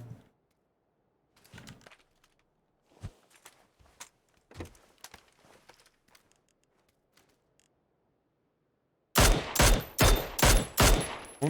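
Gunfire in PUBG: scattered faint shots and footstep-like clicks, then a loud, rapid burst of about six close gunshots in quick succession near the end, with no voices.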